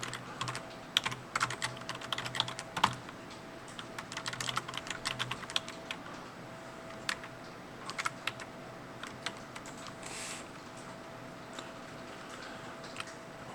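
Quiet, irregular clatter of typing on a computer keyboard, bursts of key clicks and pauses spread over several seconds against a soft steady hum, no voices.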